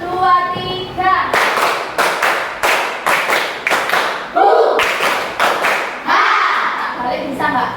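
A group claps in counted bursts of one, two and three sharp, close claps, separated by short pauses, while a voice calls out the counts between them.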